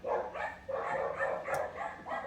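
Dogs bark in a steady repeated series indoors, several rhythmic woofs in a row at moderate distance, with a brief sharp noise partway through.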